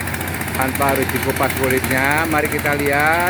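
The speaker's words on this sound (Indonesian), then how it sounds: "Inilah mesin pemipil jagung tanpa harus dikupas kulitnya." A corn sheller machine shelling unhusked corn runs with a steady mechanical rumble and rattle, while someone talks over it throughout.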